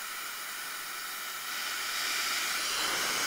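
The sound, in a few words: Mescomb rotating hair dryer brush blowing air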